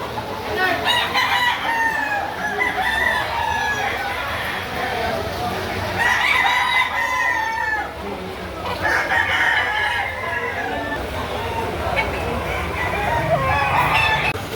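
Roosters crow repeatedly and hens cluck at a rainy Saturday chicken market in Lipa City, Batangas, the calls overlapping in a steady, busy din of nearby birds with people talking in the background.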